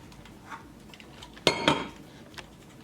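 A cake stand set down on top of a pineapple upside-down cake gives two quick, hard clinks close together. Faint scattered kitchen clatter comes before and after.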